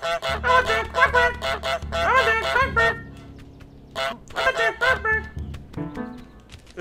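A goose in Untitled Goose Game honks repeatedly in loud, uneven bursts, with a low steady tone underneath and a person talking in between.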